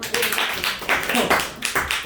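A small class of nine students in a Korean high school math lesson clapping their hands, short uneven bursts of claps close by, mixed with voices talking.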